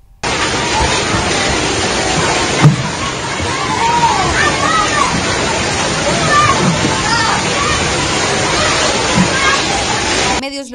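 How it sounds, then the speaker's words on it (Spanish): Floodwater rushes and sloshes steadily through a school after heavy rains as staff and students bail it out, a loud continuous wash with a sharp splash early on and faint voices murmuring beneath. "Docentes, personal escolar y estudiantes intentaban sacar el agua de la escuela Rubén Darío tras las fuertes"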